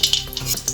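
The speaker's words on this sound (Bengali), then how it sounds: "শুকনো লঙ্কাটাকে একটু ভেজে নিয়েছি।" Dry red chilli crackles briefly in hot mustard oil in a kadai, a short sizzle broken by a couple of quick scraping stirs.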